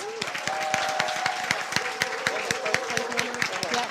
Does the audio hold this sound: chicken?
no